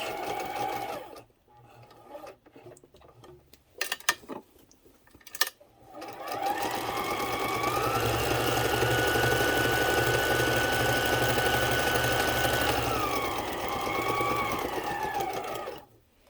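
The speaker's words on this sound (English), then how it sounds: "let's just, for grins and giggles, do a zigzag stitch." A repaired Kenmore sewing machine runs a zigzag stitch. A steady mechanical whirring sews for several seconds and winds down, preceded by a few clicks and short bursts of the motor.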